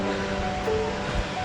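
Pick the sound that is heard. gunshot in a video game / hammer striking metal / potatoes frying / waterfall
waterfall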